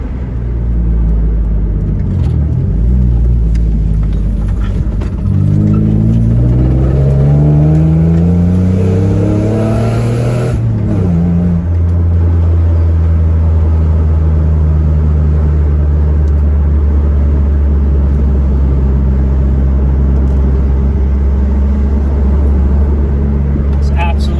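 A 2003 Mitsubishi Eclipse accelerates hard on a back road, its engine revving up through climbing pitches with a shift, then settling into a loud, steady rumble heard from inside the car.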